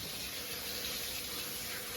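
Tap water running into a kitchen sink for hand washing while making fudge, a steady close hiss of flowing water without pauses.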